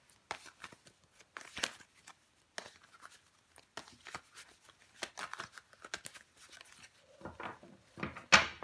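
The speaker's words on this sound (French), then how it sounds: "Mais je vais recouvrir des cartes tout de suite." Tarot cards shuffled, handled and turned over during a reading, with soft close papery flicks and slides in irregular bursts, no talking.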